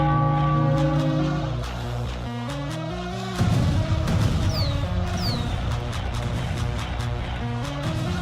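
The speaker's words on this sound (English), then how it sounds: "Ring the bell, the Philadelphia Phillies win." A ringing bell sounds continuously at a Phillies victory, with sustained metallic tones that shift midway into a denser, louder clanging layered over crowd noise.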